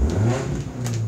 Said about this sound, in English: Oh, we got a race car out there. It must be definitely sounds like a Honda.